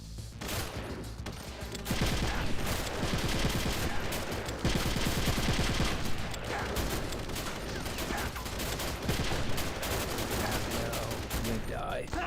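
Sustained rapid gunfire from a new weapon in Metal Gear Solid: The Twin Snakes, loud dense bursts running almost continuously with brief gaps, close and dominant.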